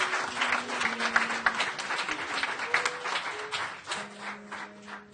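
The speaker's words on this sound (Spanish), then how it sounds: "Pero un aplauso al Rey." Congregation at a worship service claps in applause, a moderate scattered patter with sustained tones, likely music or held notes, underneath; fairly quiet and continuous throughout.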